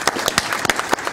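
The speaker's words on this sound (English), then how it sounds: "Round of applause" Audience applause in a town council meeting room, a small group clapping with distinct individual claps standing out, fairly close and moderately loud, no talking over it.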